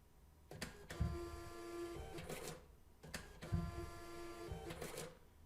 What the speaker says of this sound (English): you'll hear and see 2 receipts print out with partial cuts between them